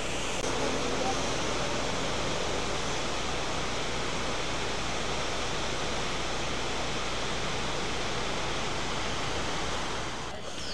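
Waterfall in Munnar running at low flow, a steady broadband rush of falling water heard close and continuous throughout, with a brief knock at the very end.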